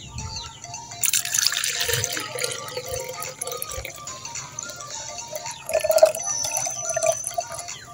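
Water mixed with medicine being poured into a plastic chick waterer, a steady trickling and splashing stream with a few brief gurgles and knocks, heard alone and fairly close.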